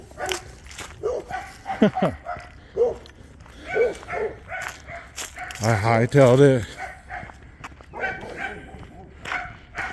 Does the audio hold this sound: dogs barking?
yes